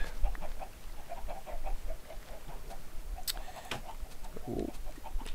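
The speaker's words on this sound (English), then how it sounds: "Now when I have enough chickens in here" Minecraft chickens cluck and chatter in a busy, continuous stream, with scattered sharper clicks and a brief louder squawk near the end.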